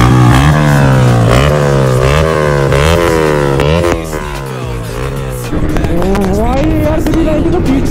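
A small compact motorcycle, in a drag race between an MT-15 and a KTM 390, revs hard at full power, its engine note climbing and falling in repeated loud surges, close and continuous, with a sharp jump in pitch near the end.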